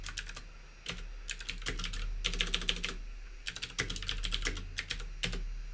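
Keys clatter on a Commodore 64 keyboard as a program is typed, quick bursts of clicks separated by short pauses, crisp and close over a low steady hum.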